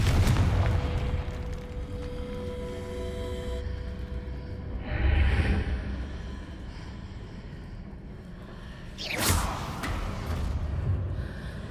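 In Hogwarts Legacy, the Confringo spell sets off an explosive blast: a deep low boom near the start, a second rumbling burst midway, then a sharp whooshing crack before the noise trails off.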